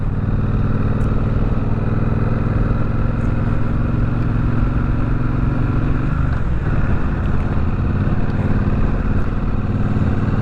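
A Triumph Speedmaster motorcycle engine drones steadily and loudly while riding around corners, with a brief dip and shift in pitch midway before the continuous rumble carries on.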